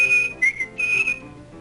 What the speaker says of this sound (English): That's the AdAmAn whistle.